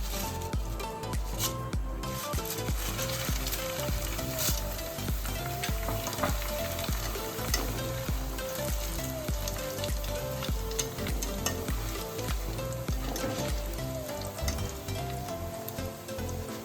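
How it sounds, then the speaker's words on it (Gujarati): Corn poha frying in hot oil for a mixed poha chevdo snack, a dense continuous sizzle with bubbling crackle and occasional stirring scrapes, loud and steady throughout with no talking. "આપણે મકાઈના પૌવા છે થોડા થોડા એડ કરતા જશું અને તળી લઈશું."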